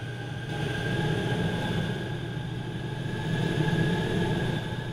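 A metro train in the Metro Mania video game, heard from inside a BM2 carriage, rumbles steadily as it pulls away. A constant low rolling drone sits under a faint, sustained whine.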